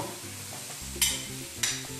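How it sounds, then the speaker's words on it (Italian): Hamburgers sizzle on a hot griddle greased with a little oil, a steady close frying hiss with two sharp spatters flaring up partway through and no voices. "Mettiamo i nostri hamburger sulla piastra."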